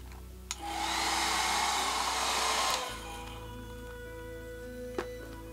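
A hair dryer blows steadily on a painted craft piece for nearly three seconds, a loud broadband whoosh that cuts off abruptly, leaving a quieter room hum with a faint click afterward.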